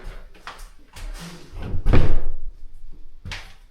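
A door in a renovated Detroit house is pushed shut, landing as one solid thud midway through, with a few lighter knocks and shuffling noises around it in a quiet room.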